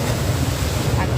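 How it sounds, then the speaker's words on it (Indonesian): Ocean surf rolling in at Sanur beach at sunrise, a steady loud wash of waves with wind rumbling across the microphone throughout. "Lagi ombak."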